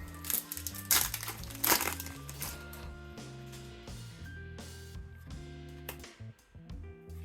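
Kayou Scissor Seven trading card pack torn open by hand, with loud crinkling and crumpling of foil wrapper in bursts over the first two seconds, then softer handling rustles, all set against steady background music.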